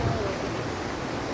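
A mountain stream flows along the Cibodas hiking trail on Mount Gede, a steady rushing hiss of water heard briefly and fairly close, with no clear talk over it.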